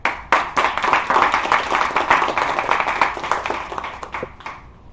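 An audience applauds to welcome a speaker, with steady, fairly loud clapping from many hands that starts abruptly, holds for several seconds and then tapers off.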